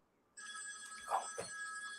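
A telephone bell rings suddenly after a quiet moment, a bright electronic trill with a couple of stronger pulses, heard faintly in a room during a live chat.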